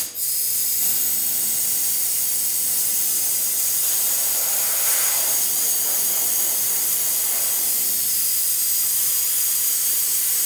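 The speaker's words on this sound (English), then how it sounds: "I'm going to take my air compressor air hose" Air compressor hose blowing a steady hiss of air over a freshly applied metal reactive paint finish on a woodturning, continuous and fairly loud throughout with a slight swell midway.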